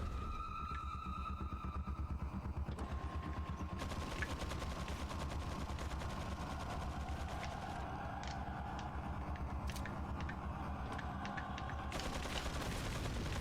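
Gatling gun in the Resident Evil 4 video game, firing as a sustained, fast rattling burst mixed with engine-like roar, steady and fairly faint throughout.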